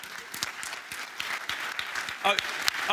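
An audience at a marketing conference claps together in a dense, steady round of applause, with voices mixed faintly into the clapping.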